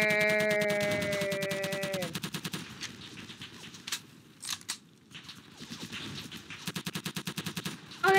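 Rapid bursts of gunfire from a Roblox D-Day beach battle game, loud sustained automatic fire with scattered single shots and pauses, a brief musical tone at the start.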